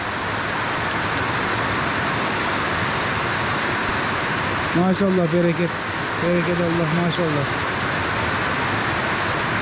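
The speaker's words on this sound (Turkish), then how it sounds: "Aşırı derecede yine bir yağmur bastırdı." Heavy rain pours steadily onto a cattle farm, a dense constant hiss throughout, while someone speaks briefly in the middle over the downpour.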